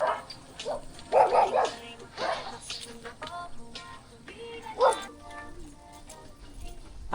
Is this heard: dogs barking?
yes